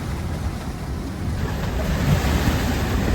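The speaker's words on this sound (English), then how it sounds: "So this is what 30 to 35 knots of wind looks like, and 3 meters swell." Strong 30 to 35 knot wind and 3-meter swell on a sailing boat at sea, a loud continuous roar of wind buffeting and waves surging, building slightly toward the end with no talk.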